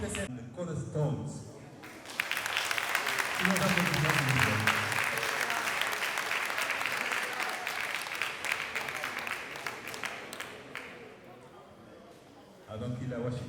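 Audience applause at a reggae awards ceremony swells after a voice over a loudspeaker, sustained clapping across the hall that slowly fades, with announcer talk at the start and end.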